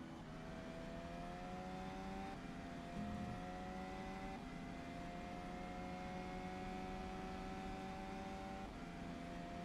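Formula 1 car engines in a racing sim game at Melbourne, a steady high-pitched whine with shifting tones and brief gear changes, continuous and fairly faint throughout with no voices.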